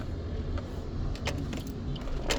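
A slow-moving car rolls along a smoky road, a low steady rumble of engine and tyres nearby, with a few light rattles and clicks on top.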